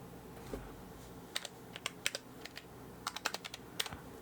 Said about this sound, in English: we type in Touch v3